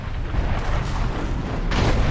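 Cannon fire in the video game Dungeon Siege 3, a dense rumbling barrage of booms rolling on continuously at moderate loudness, with no speech over it.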